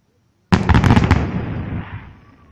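Fireworks burst with a sudden loud crack, then a rapid flurry of crackling pops that decays into a fading rumble, heard alone with no talk.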